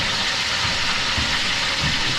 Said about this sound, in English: Just a little bit of a sizzle happening, but all good.